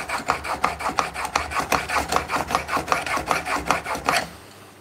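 A steel blade is honed on a diamond sharpening stone with a steady rhythmic rasp, about twenty quick, even, close strokes that then stop, with no talking.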